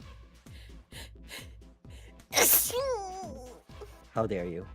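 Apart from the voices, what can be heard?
a person sneezing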